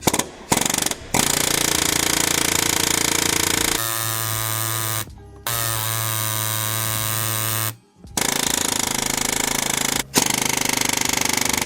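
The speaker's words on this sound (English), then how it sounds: "get in here with the air hammer, stuff a chisel bit in there, give it a couple braps" Loud, continuous rapid hammering of a pneumatic air hammer with a chisel bit on a Chevy 2500 front end, with brief pauses, changing pitch partway through, close up with no talking.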